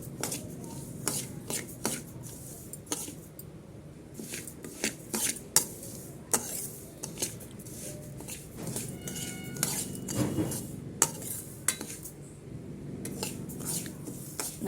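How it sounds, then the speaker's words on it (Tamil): Samai little millet rice is roasted dry in a pan, a spatula repeatedly scraping and knocking against the metal in uneven bursts, with a faint grainy rustle between strokes and no talk. "சாமை அரிசியை நல்லா வறுத்து எடுத்துக்கணும்."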